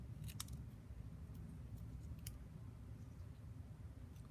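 Scissors snip through card stock being trimmed for card making, a few short, crisp cuts near the start and a couple more later, close and fairly quiet over a soft background hum.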